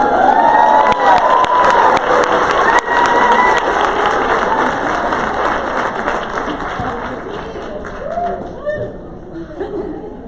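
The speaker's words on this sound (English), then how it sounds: "Another round of applause." A conference opening-session audience bursts into loud, close applause and cheering, dense clapping with whoops and shouts that gradually thin and fade toward the end.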